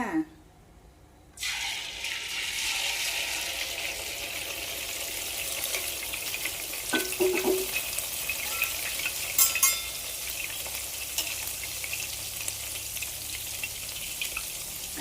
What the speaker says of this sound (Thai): พอน้ำมันออกร้อนแล้วก็ เทไข่ลงไปเลยจ้า